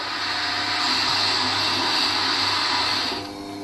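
A sharpening machine with a coarse grinding wheel hums in a steady, even whine as a V-profile carving tool is ground, easing slightly lower near the end.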